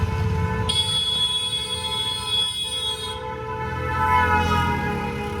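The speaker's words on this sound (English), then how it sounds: "you need to ban horns here. Too much of honking." Vehicle horns blare in long sustained overlapping tones over steady traffic rumble in Madhya Pradesh, India, one horn dropping out midway while others keep sounding, loud and close.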